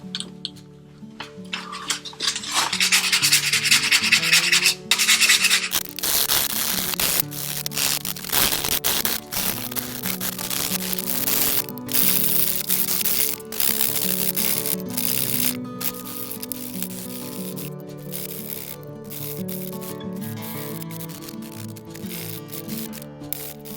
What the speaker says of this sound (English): a fresh piece of 100 grit sandpaper into work